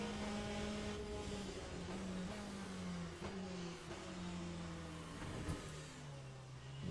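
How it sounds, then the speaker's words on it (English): Porsche GTE race car engine in the racing game Le Mans Ultimate at Monza, a loud sustained engine note rising and falling through gear changes, with brief tire squeals and no talking. "That Porsche sounds amazing."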